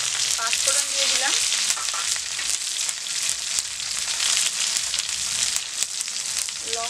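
Panch phoron, the Bengali five-spice seed mix, sizzles and crackles in hot oil in a pan, a loud, dense, continuous frying hiss up close with brief stirring sounds.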